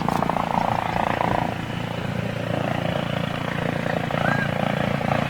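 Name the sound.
airliner flying past at Toulouse airshow, A330 or Dreamliner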